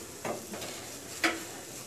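Grated carrots for carrot halwa fry in a pan, a soft low sizzle with a couple of brief stirring scrapes, fairly quiet and close, without talk.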